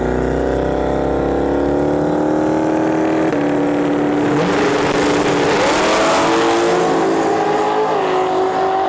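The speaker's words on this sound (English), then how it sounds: "this Camaro has gone 850 3 days in a row now, so let's see if we can do" A Camaro launches on a drag strip and makes its run, a loud, continuous engine roar that climbs steadily in pitch through the gears and fills the whole stretch.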